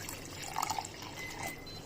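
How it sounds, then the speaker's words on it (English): Water poured into a mixer jar still holding leftover curry paste, a brief soft trickle and splash in a kitchen. "we add some water."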